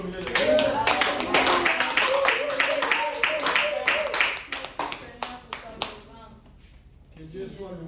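A church congregation claps in a fast, loud, steady rhythm, many hands together, with voices acclaiming over it, thinning to scattered claps toward the end.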